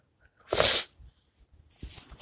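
A sharp, breathy sneeze up close, followed moments later by a second hissing burst of breath or another sneeze.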